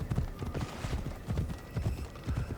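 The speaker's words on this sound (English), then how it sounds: "Take the horse back to her, or her stable boy" Horse hooves clip-clop in steady rhythm in the video game Assassin's Creed Odyssey, a continuous close trot that keeps going throughout.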